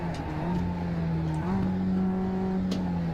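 A Mazda MX-5 race car in iRacing at the Nürburgring pulls out of a corner, its engine droning steadily then rising in pitch with a gear change midway, loud and close with faint tire noise.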